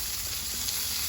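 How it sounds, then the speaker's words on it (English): Potatoes sizzle steadily on a Blackstone griddle, a loud, continuous frying hiss heard up close with no talking. "listen to that sizzle"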